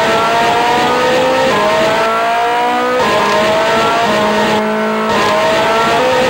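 Engine drone and tire screeches from a racing game on a Lexibook handheld console, with harsh, buzzy synthesized tones that shift pitch steadily as the car runs, loud and continuous with no talk.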